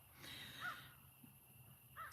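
Crows cawing outdoors, two short harsh calls spaced about a second apart, faint and fairly distant over a steady background hiss.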